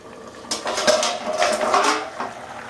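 A lid clatters onto a metal pot of simmering Bengali fish curry with potol and potato, a cluster of close metallic clinks and scrapes lasting a couple of seconds.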